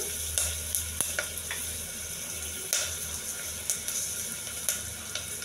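Garlic and curry leaves sizzle and crackle steadily in a hot pan, with a few sharp pops and the scrape of stirring, close and moderately loud, no voices.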